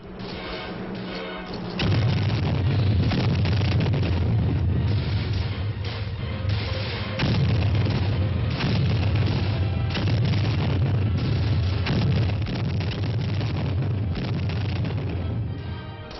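Artillery supporting fire booms during a rifle platoon attack, a loud, dense and continuous roar of overlapping heavy blasts and rumbling that barely lets up for the whole stretch.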